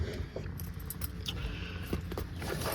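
A set of Aerolock try-out keys for a 1972 Chevrolet Chevelle jangles and clinks softly on a ring, with a few brighter metallic taps over a low background rumble.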